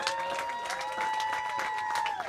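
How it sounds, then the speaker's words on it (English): A crowd at a youth baseball field ribbon cutting applauds for the mayor, a dense wash of clapping with cheers and a sustained tone riding over it, loud and continuous throughout. "let's give a big round of applause to our outstanding Mayor Scott"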